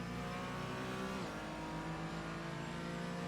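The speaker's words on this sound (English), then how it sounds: "Watching the brake lights of the Mercedes up ahead. Hard braking there." A race car brakes hard at Spa-Francorchamps during a one-hour road-racing event, its loud, steady engine roar dropping sharply in pitch partway through before carrying on at a lower note, with no talking.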